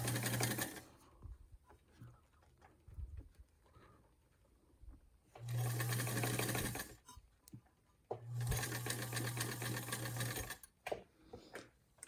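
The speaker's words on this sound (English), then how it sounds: "I'm going to reverse sew, so I've pushed that lever up." A Peerless sewing machine stitches in reverse, running in two steady whirring bursts of a few seconds each, close and loud. Quieter clicks and handling sounds fill the gaps, and no one talks.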